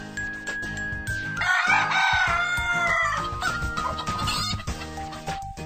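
A cartoon rooster on a roof crows over bright farmyard music, a drawn-out cock-a-doodle-doo rising through the middle and fading, with clucks around it, loud and close, with no talk.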